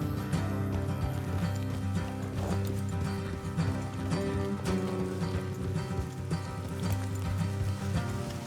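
Steady rhythmic clip-clop of horse hooves over a bed of game music in Red Dead Redemption II, continuous and even throughout with no talking.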